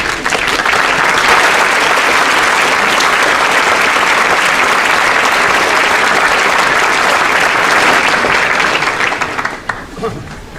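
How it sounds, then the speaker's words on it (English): Graduation audience at a ceremony where Chief Justice John Roberts spoke, standing and giving a loud, sustained round of applause that fills the room evenly for about ten seconds before tapering off at the end. "give them a great round of applause"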